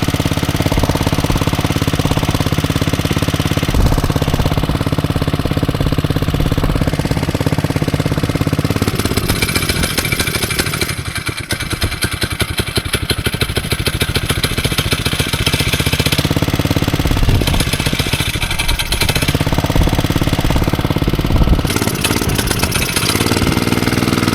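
An engine runs steadily after throttle is added, warming up with a loud, constant rumble and knocking chug that sits close throughout, dipping slightly midway before settling back to an even idle.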